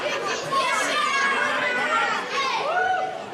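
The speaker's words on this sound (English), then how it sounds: "the crowd here showing their displeasure with Drummond." A wrestling arena crowd jeering and booing a performer, a dense murmur of many voices with raised shouts, steady and loud throughout.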